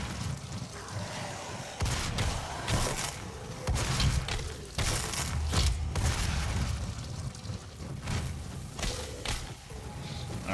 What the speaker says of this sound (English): like the combat shotgun.